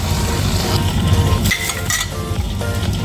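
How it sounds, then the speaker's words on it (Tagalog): Chili peppers sautéing in a pan, a loud continuous sizzle with stirring scrapes and a few metallic clinks of utensil against pan. "So birahin na natin habang tayo is nagigisa."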